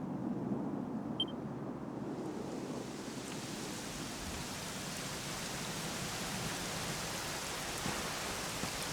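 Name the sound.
rain falling in video game Dragon Quest XI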